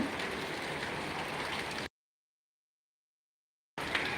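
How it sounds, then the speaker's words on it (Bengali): Heavy rain pouring steadily in Noakhali, a dense hiss of drops on surfaces that cuts off abruptly for nearly two seconds and then resumes. "নোয়াখালী বৃষ্টির পরিমাণ দিন দিন বৃদ্ধি পাচ্ছে আপনারা সবাই দেখতেছেন"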